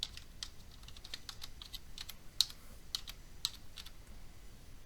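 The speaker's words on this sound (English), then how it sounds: "In the first topic level, type in photography." Someone types on a computer keyboard at a desk in a quick, irregular run of close, crisp key clicks, with a few sharper taps standing out and no voices.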